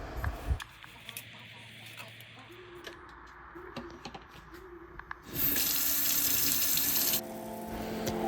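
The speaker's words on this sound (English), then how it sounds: "so now it's time to tackle the dishes." Kitchen tap at a sink being filled for washing dishes, a soft rush of running water that starts partway through after quiet clinks and small kitchen noises, steady and close before easing off near the end.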